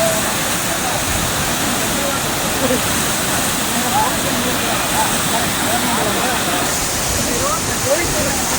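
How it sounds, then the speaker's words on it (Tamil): Water pours down a waterfall in a dense, loud, unbroken rush close by, with voices faintly mixed into the roar. "தண்ணி ஊற்றியது"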